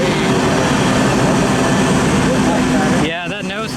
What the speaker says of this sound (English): There's an airplane.